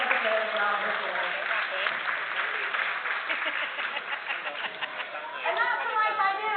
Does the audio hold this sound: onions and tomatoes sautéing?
no